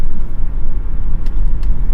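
2008 Ford Mustang GT cruising gently under light throttle, a steady low road and engine rumble from inside the car with two faint brief clicks near the end.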